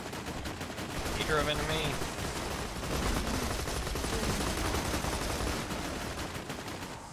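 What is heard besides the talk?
gunfire in Borderlands 2 video game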